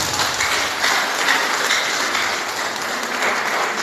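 Steady, dense applause from a church congregation during Sunday worship and praise, continuous and loud throughout with no talk.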